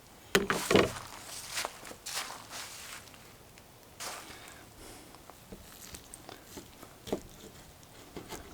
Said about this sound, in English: let's go ahead and get a knife and cut into this and see what it tastes like